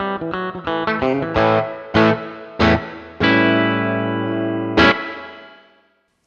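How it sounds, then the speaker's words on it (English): Guitar played through a Fractal medium spring reverb for a classic rockabilly tone: a quick run of picked notes, then a few separate strummed chords ringing out with springy decay, loud and close, no talk. "You could also just select a medium spring reverb."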